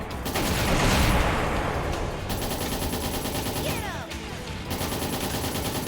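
Rapid missile barrages in the game Trails in the Sky the 3rd, a dense, loud crackling roar of repeated blasts that surges early, dips briefly near the end, then resumes, with no voices over it.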